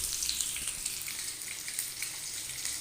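Potato and pointed gourd pieces fry in oil until reddish, producing a steady, close sizzle with scattered bright crackles and spits and no voices.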